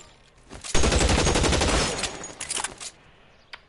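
Rapid burst of gunfire in the video game L.A. Noire, a dense fusillade of overlapping shots for about two seconds, followed by a few trailing shots and one last isolated crack.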